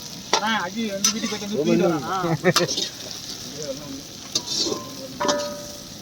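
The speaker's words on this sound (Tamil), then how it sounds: "தக்காளி எடுத்து வெங்காயம் பொன்னிறமாக வதங்கும்" Onions and tomato sauté in a pan with a steady, moderate sizzle and occasional sharp stirring clatters, while voices chat nearby over the first half.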